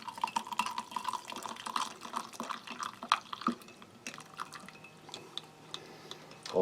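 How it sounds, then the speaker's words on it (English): Water trickles and drips into a mug while topping up a Dutch cold weather ration drink, a soft, steady close pour with small splashes and no voices. "we'll just top that off to about half a mug."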